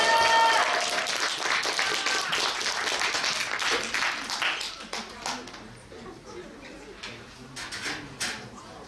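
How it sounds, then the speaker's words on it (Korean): Audience at a school chapel service applauding as a pastor comes on: dense clapping that starts loud and thins into scattered claps and fades over several seconds. "큰 박수로 환영하도록 하겠습니다"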